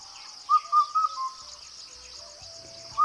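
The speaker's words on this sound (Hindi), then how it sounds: "चैत के महीने में चिड़िया कहती है, काफल पाको मैं नी चाख्यो।" A bird in the Kumaon hills gives a short series of clear whistled notes, then one more after a pause. A thin, constant insect drone sits behind it.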